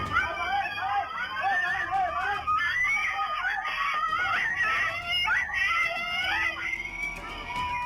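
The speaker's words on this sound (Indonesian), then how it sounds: "sejumlah emak-emak berlari sembari berteriak mengejar dua pelaku pencurian sepeda motor" Women in a street in Koja, North Jakarta, scream continuously while chasing two motorbike thieves, their shrill overlapping cries captured by CCTV over crowd noise.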